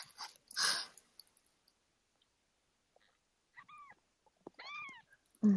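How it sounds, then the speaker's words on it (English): A very young newborn kitten, about a day old, gives a few thin rising meows near the end, after a brief noisy rustle at the start and a quiet stretch. "That's a little baby kitten."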